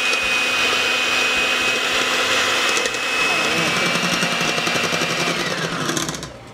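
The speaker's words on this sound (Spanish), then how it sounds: "Ahora vamos a comenzar ya a batir las claras." Electric mixer whipping egg whites for Salvadoran potato rellenos: a loud, steady motor whir with a constant whine runs unbroken for about six seconds, then winds down at the end.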